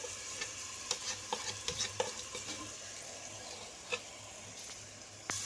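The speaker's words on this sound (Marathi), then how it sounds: "थोडं तुपामध्ये परतून घेऊया." Bael fruit pulp is stirred in hot ghee in a kadhai, giving a faint, steady sizzle with soft scraping stirs and a few light spoon taps close by.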